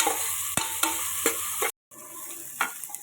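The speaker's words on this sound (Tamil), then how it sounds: "இதை முதல்ல நல்லா வதக்கிடலாம். இது நல்லா கோல்டன் கலர் வரணும் ஓரளவு" Onions sautéing in a pan toward golden, a close sizzle broken by repeated scraping and tapping of a spoon, a brief silent cut partway through, then more stirring strokes.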